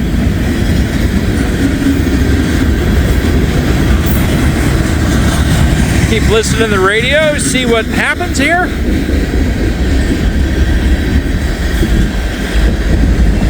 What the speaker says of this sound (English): Looks like I got a train going southbound over there in the Dayton district.